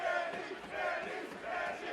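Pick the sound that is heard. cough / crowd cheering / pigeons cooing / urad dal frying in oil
crowd cheering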